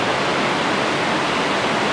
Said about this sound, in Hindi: ये जो पानी आ रहा है ऊपर से